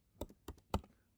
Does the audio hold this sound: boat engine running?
no